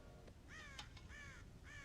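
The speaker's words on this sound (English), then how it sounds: "God damn crows!" Crows cawing in the video game Red Dead Redemption, several harsh, repeated caws in quick succession close by over a low rumbling background.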